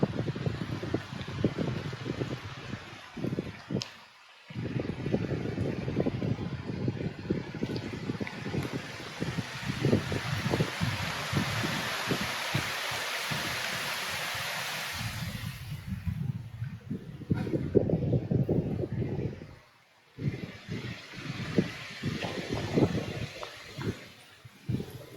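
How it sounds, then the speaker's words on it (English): Wind rushing through trees in the grounds of Petworth House, West Sussex, a loud sustained roar that swells and eases over about 25 seconds, with brief near-silent lulls and gusty buffeting close to the microphone. "I love that sound of the wind through the trees."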